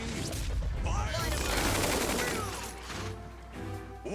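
Gunfire in the strategy game Tiny Metal sounds as a dense burst of rapid shots and crackling impacts, loud and rolling, then trailing off into lighter scattered blasts, with a voice speaking over it.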